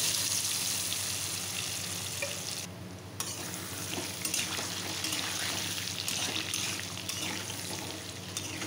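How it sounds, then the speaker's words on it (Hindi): Potatoes fry in smoking-hot oil in a pan as a steady, close sizzle, with a short lull partway through and occasional stirring scrapes. "तेल हमारा गर्म हो चुका है, देखिए धुआं निकल रहा है। अब हम इसमें आलू डाल देते हैं।"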